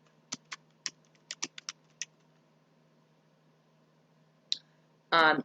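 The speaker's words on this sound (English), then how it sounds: "It'd be awesome if I could type." Scattered keystrokes on a computer keyboard, about eight separate clicks in the first two seconds, then a long pause, a single tap and a short rapid burst of typing at the end, all close and fairly quiet.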